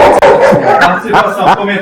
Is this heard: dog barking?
yes